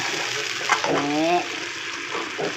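Basil and fish being stir-fried in a pan, with a steady sizzle and scraping stirs under a brief voice and a whistling, rising tone in the middle.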